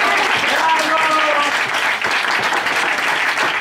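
Audience applause of encouragement at a team poetry slam, a steady dense wash of clapping from a crowd for nearly four seconds, with faint voices mixed in.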